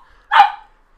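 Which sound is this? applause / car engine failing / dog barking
dog barking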